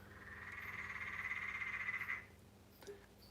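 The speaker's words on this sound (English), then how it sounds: "That is a chunky little green stream frog if ever I've seen one." A green stream frog gives a single long, buzzing trill lasting about two seconds, close and clear against a quiet background, followed by silence.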